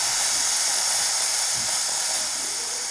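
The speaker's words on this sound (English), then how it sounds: "All you need to do is press the steam button here, so it's the second button, and it's going to spit out a little bit of water first." Breville Bambino espresso machine steam wand purging, a steady loud hiss of steam and spitting water, close and continuous without pause.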